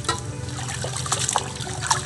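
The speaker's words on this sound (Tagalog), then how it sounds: "hugasan natin mabuti yung gulaman or yung agar-agar" Water trickles and dribbles steadily as agar-agar (gulaman) seaweed is rinsed by hand, with small splashes and drips close by.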